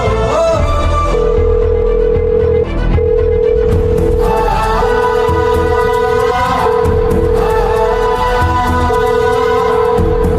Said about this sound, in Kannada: ಕಲ್ಪನಾ ನೀ ಫೋನ್ ಮಾಡು.